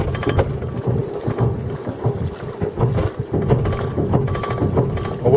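Diesel engine of a Dutch tjalk barge revving as the throttle opens, a steady low rumble with pulsing throbs and wind buffeting the microphone outdoors.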